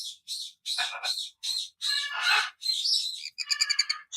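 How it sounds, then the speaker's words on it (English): A pet bird chirps and squawks in a string of short, bright calls with brief gaps, ending in a rapid trill, close and clear. "Look at that pretty bird"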